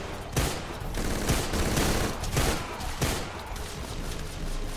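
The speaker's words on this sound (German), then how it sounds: "Warum schieße ich jetzt?" Gunfire in the video game Deadfall Adventures, a dense run of loud shots with repeated sharp bursts, steady and close throughout.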